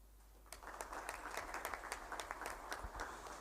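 Delegates at a health ministerial meeting give the organizers a round of applause: dense, even clapping that starts after a quiet moment and continues steadily, heard faintly at a distance.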